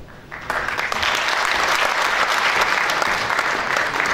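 A hall full of people at an association general assembly breaks into strong, sustained applause, the dense clapping rising suddenly and holding steady.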